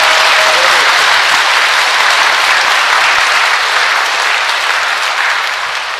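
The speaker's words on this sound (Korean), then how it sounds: "박수 치려면 다 치십시오." Loud applause from a crowd at a Medjugorje praise retreat held in a Catholic church in Incheon: thick, continuous clapping from many people, steady throughout and easing slightly at the end.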